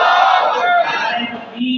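A crowd at an Islamic religious gathering shouting the takbir slogan in unison, a loud, sustained chorus of many voices held for under two seconds.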